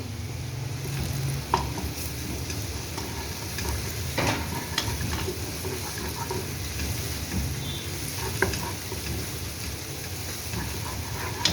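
Steady frying sizzle of garlic with scraping and stirring sounds from a utensil, a few sharp clinks scattered throughout, continuous and fairly close.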